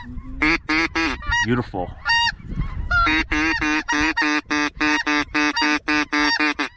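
Small geese honking on a snowy day, a rapid series of nasal honks close by in a fast, fairly even rhythm, with a brief spoken word partway through.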